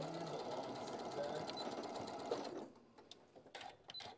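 Sewing machine back tacking a line of stitches in fabric, running as a steady close mechanical whir for about two and a half seconds before stopping, followed by faint handling noise.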